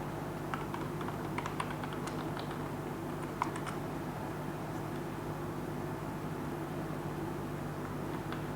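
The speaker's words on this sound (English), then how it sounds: "go to the previous screen and type this command which we typed before" A command typed on a computer keyboard, rapid light key clicks in short bursts over a steady background hum, fairly faint and without talk.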